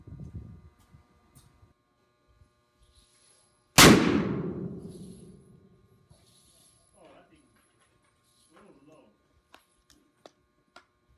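A single loud, sharp report from a Henry 45-70 lever action rifle cracks out at a target with a long decaying echo, preceded and followed by quiet talk between shooters outdoors.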